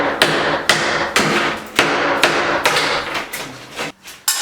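A small hammer breaking out a tiled shower wall, sharp close blows landing about every half second with a cracking, crunching impact and brief rattling debris after each strike.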